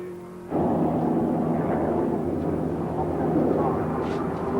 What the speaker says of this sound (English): Just listen to that V8.